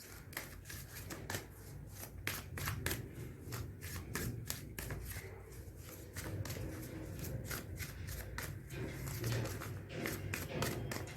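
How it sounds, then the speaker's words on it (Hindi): Tarot cards shuffled by hand in a continuous run of soft, rapid papery slaps and riffles, close and steady for about eleven seconds over a low background hum. "अच्छे से शफल करते हैं."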